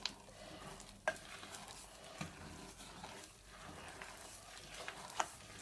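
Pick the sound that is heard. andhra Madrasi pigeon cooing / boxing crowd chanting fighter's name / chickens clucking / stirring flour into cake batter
stirring flour into cake batter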